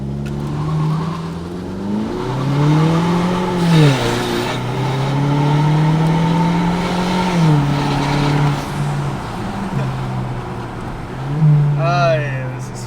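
Modified 2019 Mazda CX-9 making a launch: a loud, revving engine note sweeping up and shifting through gears, sustained throughout with a brief tire squeal near the end, with people talking over it.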